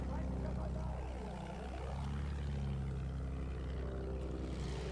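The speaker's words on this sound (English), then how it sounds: "Careful of the plane behind next to us." Propeller aircraft flying close by in Battlefield 1, a steady droning engine with a Doppler-like pitch sweep as it passes, under continuous battle noise and talk.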